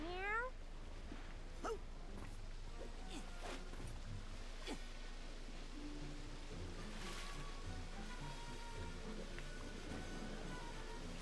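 A short, faint cat meow rises at the very start in Psychonauts 2, followed by quiet game ambience with soft clicks and swells like distant waves.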